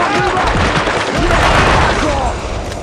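Grenade blast and gunfire fill a chaotic Cold Winter firefight on PS2, a dense, loud roar of shots and booms running throughout with shouted voices underneath.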